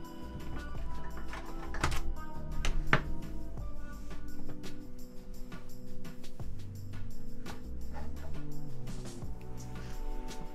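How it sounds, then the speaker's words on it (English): Typing on a keyboard with Blue Alps clicky switches, with dense, rapid, crisp clicks at close range and a steady, uneven rhythm throughout. "Blue Alps, probably my favorite clicky switch."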